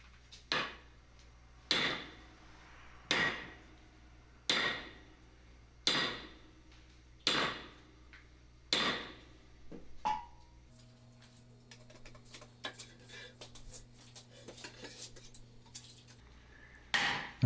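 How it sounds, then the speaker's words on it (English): A blacksmith hammers a bumper joint on an anvil in a coach shop, upsetting the joint at a 90-degree bend, with about eight sharp, evenly spaced ringing blows, then quieter clinks and a low hum. "we'll bring it back on the anvil and do it right on the end of the bumper. And here again, we're just upsetting, bringing that joint together"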